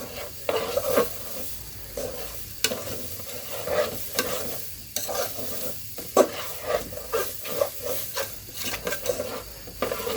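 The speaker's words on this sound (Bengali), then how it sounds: "নেড়ে চেড়ে ভেজে নিতে হবে। নাড়ার সময় খেয়াল রাখতে হবে যেন নিচে লেগে না যায়।" Khichdi with a little chili powder fries in a pot, a soft sizzle running underneath as a spoon stirs and scrapes against the metal in repeated, irregular strokes, close and fairly quiet.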